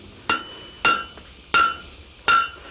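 Four sharp, ringing hammer blows strike spring steel at a blacksmith's shop to break it, each evenly spaced metallic clang decaying quickly, close and loud with no talking.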